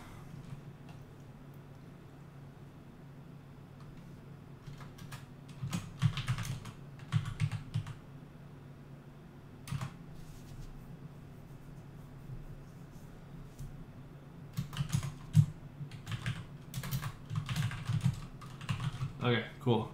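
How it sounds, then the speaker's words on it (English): Typing on a loud computer keyboard comes in irregular bursts of sharp clicks, close to the microphone, separated by quieter pauses, with a low steady hum underneath. "is the keyboard too loud? I have a loud keyboard"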